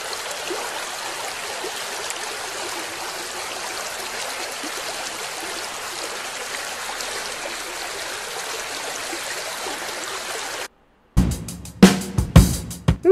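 Bath water runs steadily from a tap in a cartoon, a loud constant rushing stream that cuts off abruptly near the end and gives way to brief louder bumps.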